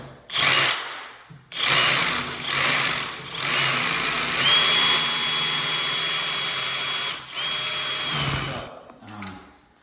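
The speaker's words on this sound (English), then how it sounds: "next I'm gonna drill. So for drilling, I'm gonna just drill roughly 1 inch or 2-3 centimeter" A power drill whirs in several close, loud bursts, revving up and biting in, with one longer sustained run before stopping.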